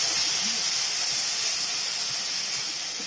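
Green chillies and onion paste frying in hot oil for a Bengali fish curry, giving a continuous, close sizzle and hiss that holds level throughout with no talking.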